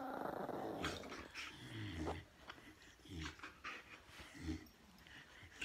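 Several dogs pant and growl close by, a steady rough panting with bursts of low growls and a few yips throughout, in a home setting.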